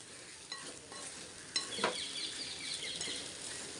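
Mini dosas tossed with idli milagai podi spice powder are stirred in a sizzling pan, a soft frying hiss broken by several scraping clinks of the spoon.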